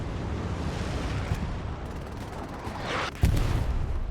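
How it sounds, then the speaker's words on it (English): An anti-tank cannon fires in a tank battle video game, a heavy booming blast rising out of a dense rumble of distant battlefield gunfire and explosions near the end. "AT cannon."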